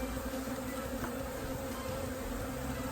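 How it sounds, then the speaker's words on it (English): A honey bee swarm buzzes steadily and close, a dense continuous drone holding without pause, with no voices over it. "See how many there are in there."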